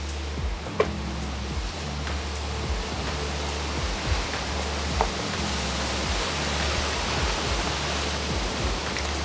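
Strong storm wind blows outdoors around an open-air kitchen where okra pakoras are being made, a steady roaring broadband rush with low gusty rumble, loud and continuous throughout with a few brief knocks.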